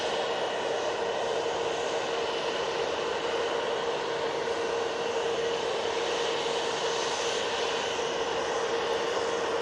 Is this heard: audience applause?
no